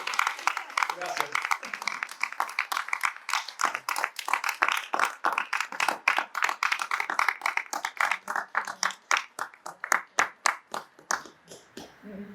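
An audience at a memorial tribute clapping, dense applause at first that settles into slower, sharper individual hand claps, loud and close, fading toward the end.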